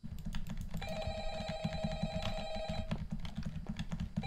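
A telephone in the video game Shoprite Employee Training rings with a steady electronic tone lasting about two seconds, over continuous rapid clicking like keyboard typing.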